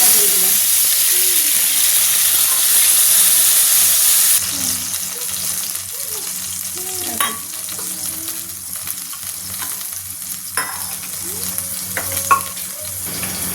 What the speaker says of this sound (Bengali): এরপরে এই যে তেঁতুল জলটা দিয়ে দিলাম।